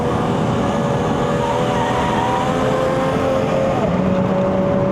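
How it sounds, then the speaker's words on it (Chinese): Steady, loud drone of a Subaru Legacy 3.0R Spec.B's 3.0-litre horizontally opposed six-cylinder engine under way on a mountain road run, holding an even note throughout with a slight pitch shift near the end. "给人家听一下6缸的声音啊"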